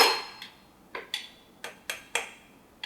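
Someone taps the metal guard of a Black&Decker LLP120 Alligator cordless chainsaw six or seven times, making sharp, bright metallic clinks at an uneven pace, close and clear with nothing else heard.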